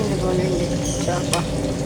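Fish fries in a pan with a continuous close sizzle and crackle, with brief scraping sounds of stirring or turning partway through.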